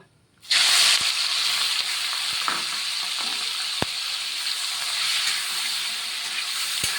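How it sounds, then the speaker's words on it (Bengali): Shrimp dropped into smoking hot oil in an iron wok, bursting into a loud sudden sizzle that stays steady, broken by a few sharp clicks of a utensil. "এবার চিংড়ি মাছ কটা এখানে ভেজে নেব।"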